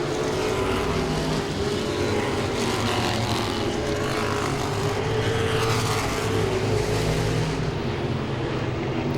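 Modified race cars roar around Langley Speedway in a steady, continuous din of several engines running close together, a loud unbroken drone without any talk.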